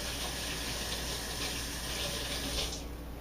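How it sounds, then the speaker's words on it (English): Running kitchen tap water streams steadily as hands are rinsed at a sink while baking a wheat apple coffee cake, a constant broadband gush that fades slightly at the very end. "I'll rinse my hands very quickly here."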